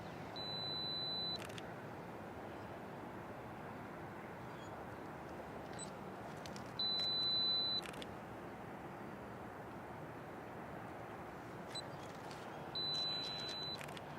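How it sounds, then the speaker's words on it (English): A Fuji X-T3 camera on a 2-second self-timer outdoors on a misty morning near a river and highway gives three separate steady electronic beep tones, each followed by a faint shutter click, over constant distant traffic rumble. "Let me make sure I got my 2-second timer on."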